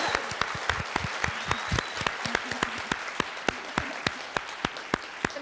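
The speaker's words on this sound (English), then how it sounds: "We can clap for Sin City." Scattered clapping from a small audience, a handful of distinct claps landing in a loose, uneven rhythm at moderate distance over a low room murmur, with no talk on top.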